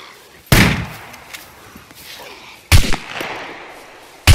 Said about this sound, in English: Did you just shoot?